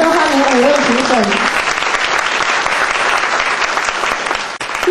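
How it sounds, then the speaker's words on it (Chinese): Applause greets five judges at a university debate semifinal, a full round of clapping from an audience that rises over the end of a voice, holds steady and then tails off. "在这里热烈掌声欢迎五位评审。"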